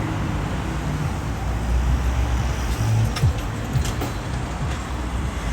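An Ipswich Buses bus rumbles past at moderate distance with a low engine drone, over steady background traffic noise in Ipswich town centre.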